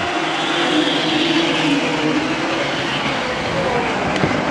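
1200 mini sprint cars racing on the dirt clay oval at Deming Speedway, a loud continuous roar of many engines at the green flag start, with no talk.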